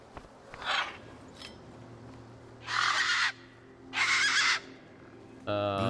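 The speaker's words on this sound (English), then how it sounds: "These were tough desert birds." Desert birds in Beyond a Steel Sky give a few harsh, crow-like caws: one faint call near the start, then two louder, broad rasping calls a second apart, over a low game ambience hum.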